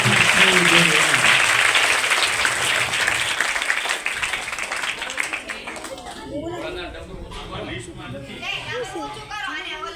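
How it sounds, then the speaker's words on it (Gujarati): A schoolgirls' cultural costume show draws a burst of audience applause that starts loud and dense, then thins and fades, giving way to scattered chatter and voices near the end. "તો તમામ માટે જોરદાર તાળીઓ થઈ જાય."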